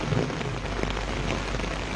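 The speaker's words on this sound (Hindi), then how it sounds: "सुबह से जो है वो जोरदार बारिश हो रही है" Heavy monsoon rain pours steadily over Palampur, a dense, even hiss of drops on surfaces with no break across the whole stretch, fairly close and full.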